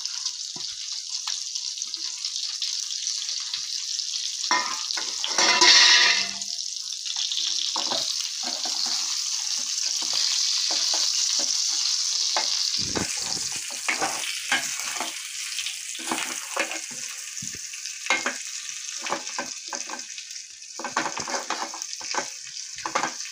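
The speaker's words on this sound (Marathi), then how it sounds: "वांगी चांगली परतून घ्या" Brinjal frying in a masala in a pan, being stirred: a steady, close hiss of sizzling oil broken by repeated scraping and clattering strokes of the spoon, with no talking.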